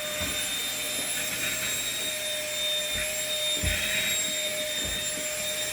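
A vacuum cleaner runs with a steady high-pitched whine and whooshing airflow while sucking scattered paper off a floor, with brief thumps and rustles as pieces are drawn into the nozzle.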